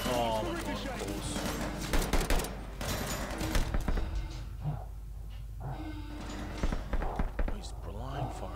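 Enemy blind fire rattles through a Call of Duty Vanguard campaign mission as scattered bursts of gunshots and sharp impacts, with a player talking over the shooting throughout.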